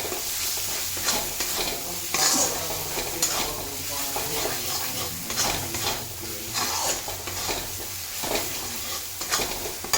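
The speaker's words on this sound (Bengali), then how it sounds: "নুন হলুদ গুঁড়ো লঙ্কা সব কিছু একসাথে দিয়ে একটু একটু করে জল দিয়ে কষতে থাকবো" Spice paste of turmeric, chili powder and salt being stir-fried in a pan with splashes of water, a steady close sizzle with repeated scraping and stirring strokes throughout, no voices.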